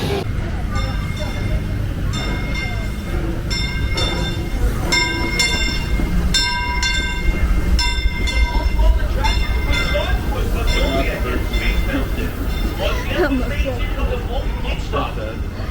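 Disneyland Railroad train running, with rhythmic clanking of the cars and ringing bell-like tones, heard up close under a busy crowd and voices talking throughout.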